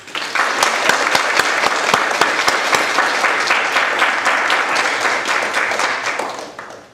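A crowd claps loudly and continuously to welcome a speaker, a thick, close wash of many hands that holds steady for about six seconds before tapering off.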